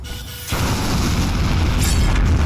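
A bomb goes off in Cavalry Girls with a sudden loud boom that swells into a long, rumbling roar of blast and debris, staying heavy and close to the end.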